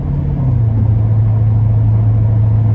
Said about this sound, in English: you just want to just make freaking exhaust sounds that can be heard 10 miles away